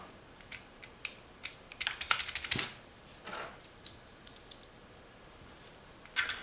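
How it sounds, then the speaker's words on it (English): Cherry MX switch pressed into a Keychron Q6 Max mechanical keyboard, a quiet run of sharp plastic clicks and snaps, some single and some in quick bursts, close by with no voices. "Place the Cherry MX switch with the metal contact facing up."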